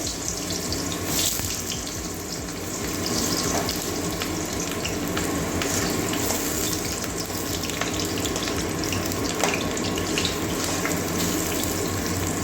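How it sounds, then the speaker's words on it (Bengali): Sliced potatoes fry in a pan for a Bengali cabbage and omelette curry, making a dense, continuous hiss and sizzle that stays loud and close throughout. "এবার আলুটা ভেজে নিচ্ছি"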